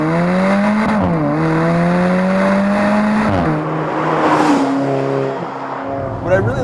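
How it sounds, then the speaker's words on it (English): Alfa Romeo 4C with a 1.7 liter direct-injected single-scroll turbo engine accelerating hard, a loud close engine note climbing in pitch through gear changes, with turbo whoosh near the end. "Alfa Romeo has embraced the sound of the turbocharger because it adds so much more in terms of theatrics to acceleration"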